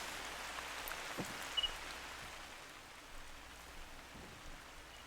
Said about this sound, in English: Rain's making it a little tough to see here.